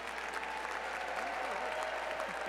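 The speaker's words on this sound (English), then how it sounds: "I think our applause can be a little louder on that one." Audience at an awards ceremony clapping steadily, a dense, even wash of applause from a crowd that stays level throughout, with faint voices murmuring underneath.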